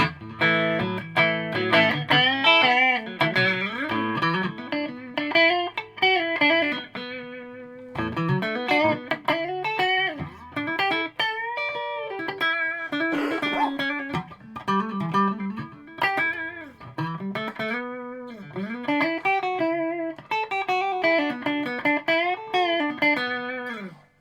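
A clean-toned electric guitar played melodically through a tube amp with reverb, notes ringing and overlapping steadily with no talking.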